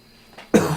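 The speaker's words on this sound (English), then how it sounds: "that was me coughing away from the microphone" A single short cough made away from the microphone, sounding slightly distant after a faint breath, brief and sharp in a quiet room.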